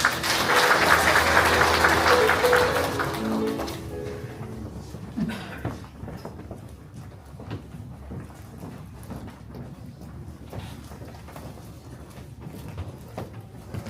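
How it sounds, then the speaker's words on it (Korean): At a Dangjin city citizen dialogue meeting in Songsan-myeon, an audience welcomes the mayor with a burst of fairly dense applause that fades after a few seconds into sparse, lingering claps and room noise. "시장님께 큰 박수를 부탁드립니다"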